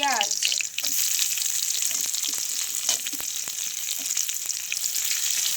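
Loud, steady sizzling of onions dropped into hot oil in a home kitchen pan, a sharp hiss at the start settling into continuous close frying with a few stirring clinks.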